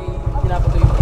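A KTM motorcycle on test ride along a highway, its engine giving a steady low, pulsing throb throughout the short stretch.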